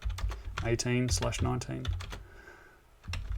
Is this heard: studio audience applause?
no